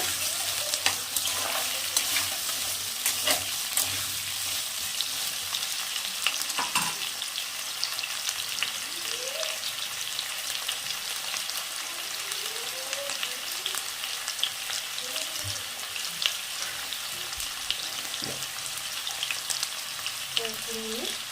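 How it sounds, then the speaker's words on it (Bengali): Potato and pumpkin pieces fry and get stirred in a pan for a vegetarian Malabar spinach dish, a steady close sizzle broken by scraping strokes of the spatula throughout, with no talk. "ভাজা ভাজা করে নেব।"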